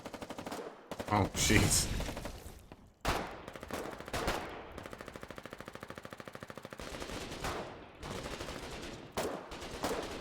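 Gunfire in the war game Foxhole comes in bursts of rapid automatic shots and single loud cracks, close and fairly loud, with a short stretch of steady machine-gun rattle in the middle, while a man briefly exclaims.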